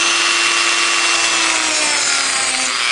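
A power grinder bites into a crack in a Saleen wing body panel, a loud, close, continuous abrasive rasp with a steady high whine and a slowly sliding tone, no talk.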